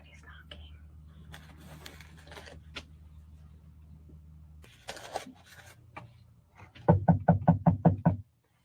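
Loud knocking on the side of a parked van at night: a rapid run of about seven close, hard knocks near the end, after a low engine-like hum and soft rustling and whispering.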